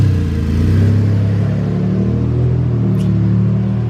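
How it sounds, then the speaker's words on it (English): A BMW X3 engine rumbles loudly and steadily close by as the car reverses, a low continuous drone that barely changes. "their noisy car backs up behind"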